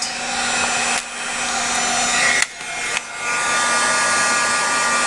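A dryer blows over a freshly stamped image as a steady, close rushing whoosh. It cuts out briefly two or three times before carrying on.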